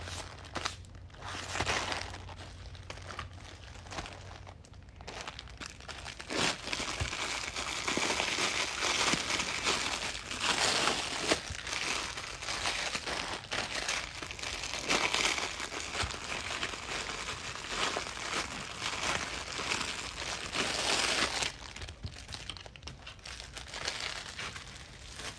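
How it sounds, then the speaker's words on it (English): Ten-inch black deco mesh with a white snowball stripe being handled and cut up close, a continuous dense crinkling and rustling that stays loud throughout, with no voices. "let's get our 10-inch mesh out and cut us"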